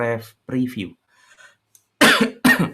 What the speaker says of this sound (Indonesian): Bentar ya, batuk dulu.